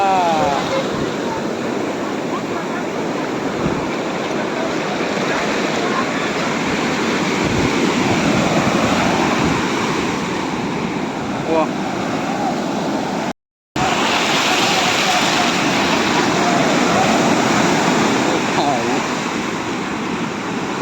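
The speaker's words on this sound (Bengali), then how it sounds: "এখানে বড় বড় ঢেউ আসছে গো, বড় বড় ঢেউ" Big ocean waves surge and crash onto the beach at Puri in a loud, continuous roar mixed with strong wind buffeting the microphone, briefly cutting out near the end.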